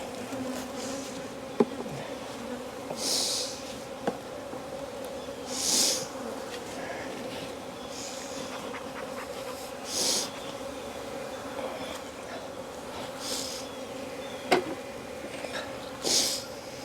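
Honey bees buzzing around an opened hive as a brood frame is handled in a Florida apiary, a constant close drone with periodic louder swells as individual bees pass near, plus occasional light clicks and knocks.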